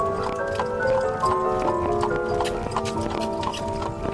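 Hooves of a horse clip-clopping at a steady walking pace on a hard surface, a continuous rhythmic clatter heard alone without talk.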